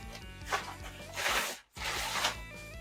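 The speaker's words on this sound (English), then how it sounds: "So I'm going to cut open this end again right here. I'm gonna peel this out." Plastic packaging is cut open and peeled off a Warrior Ritual V3i goalie stick, giving close scraping, crinkling rubs in a few bursts with a brief pause partway through.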